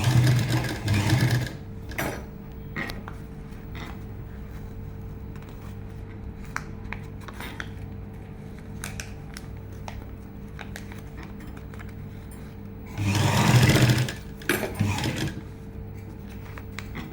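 A sewing machine stitches folded canvas paper for a chudidar neck, with a loud whirring run at the start and another around thirteen seconds, separated by a long quieter stretch of faint handling sounds.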